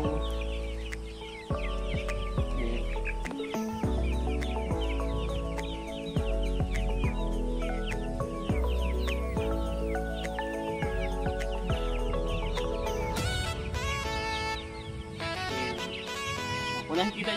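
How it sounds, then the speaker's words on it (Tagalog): Free-range farm chickens clucking and calling while feeding on ipil-ipil leaves, steady and fairly close, with occasional louder cackles and a rooster-like call, over background music. "So para meron ding tuka-tukain yung mga alaga natin, mga manok."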